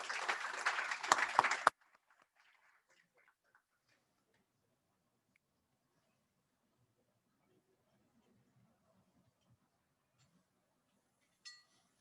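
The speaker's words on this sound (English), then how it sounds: "let's give a big thank you and round of applause to them" Audience applause for speakers on a real estate market panel, a short burst of clapping at the start that stops abruptly, followed by near silence with faint room noise.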